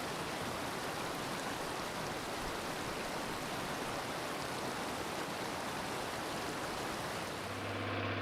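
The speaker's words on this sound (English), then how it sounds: "On the way, we took a break at a nice refreshing waterfall." A waterfall on the road to Satun province in Thailand gives off an unbroken, even rush of broadband water noise, steady and fairly close for the full length, with no voices.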